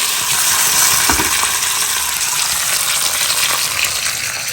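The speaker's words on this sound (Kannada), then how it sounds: "ಎಣ್ಣೆ ಸ್ವಲ್ಪ ಬಿಸಿ ಆಗ್ತಿದ್ದಂಗೆ ಹಿಂಗೆ ಹಾಕ್ಕೊಳ್ತಾ ಇದ್ದೀನಿ ಹಾಗೆ ಸಾಸಿವೆ ಕಾಳು ಹಾಗೆ ಕಟ್ ಮಾಡ್ಕೊಂಡಂಥ ಒಂದು ಬ್ಯಾಡಿಗೆ ಮೆಣಸು ಹಾಗೆ ಒಂದು ಹಸಿ ಮೆಣಸು ಕರಿಬೇವು ಸೊಪ್ಪು" Mustard seeds, chopped byadgi chili, green chili and curry leaves sizzle and crackle in hot oil, a loud, steady frying hiss with scattered sharp pops throughout.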